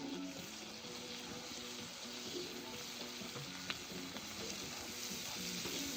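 Chopped onion fries in a kazan cauldron that has slightly scorched, giving a steady, even sizzle with faint stirring scrapes throughout, close and moderately quiet.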